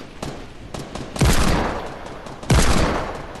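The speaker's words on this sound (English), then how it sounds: "Keep shooting, Jesus." Gunfire in the Fortnite video game, several sharp reports in quick succession with two louder blasts that ring out and decay.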